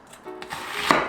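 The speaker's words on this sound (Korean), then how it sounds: "양파 한 개. 채 썰어 줄게요." A kitchen knife slices through a new-season onion on a cutting board, a few quick crisp chops building to a sharper final cut, close and clear with no talking.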